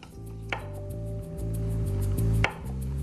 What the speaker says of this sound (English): Just want to trim the ends of our green onion